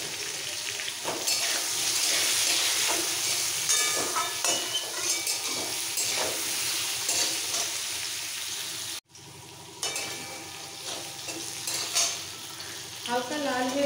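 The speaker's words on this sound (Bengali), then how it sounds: "আলুটাকে আগে হালকা ভেজে নেব" Potatoes fry with salt and turmeric in a pan, a dense, close sizzle with intermittent stirring scrapes, briefly cut off near the end before the frying resumes.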